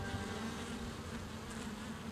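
European honeybees swarm around almond-orchard hives, a dense continuous buzzing of many insects close by, steady and unbroken, with no talk.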